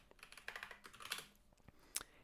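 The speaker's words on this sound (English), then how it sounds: "all I'm doing here is just typing these two functions, these two lines" Code being typed on a computer keyboard, a quick run of light clicking keystrokes with short pauses and a couple of sharper taps near the end, close and fairly quiet.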